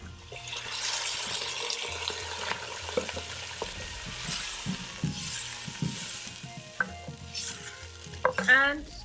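Water poured into a hot pan of fried apples and pearl barley, a rushing splash and hiss over sizzling, with stirring scrapes and clinks nearby.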